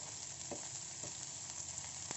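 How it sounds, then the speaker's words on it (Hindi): Carrots, capsicum and onion sautéing in oil with cumin in a pan, a quiet continuous sizzle with a few faint clicks of a spoon stirring, no talk. "अब इसमें गाजर, शिमला मिर्च और प्याज डाल देंगे इसमें।"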